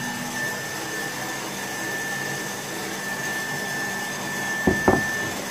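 Electric mixer beating egg yolks with sugar for a chocolate Yule log, a steady droning whir running throughout at even volume, with two brief knocks near the end.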